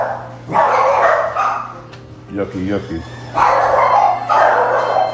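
A dog barks in excited bursts near a kitchen where turkeys are being prepared for deep frying on Thanksgiving, with loud barking before and after a person speaking close by.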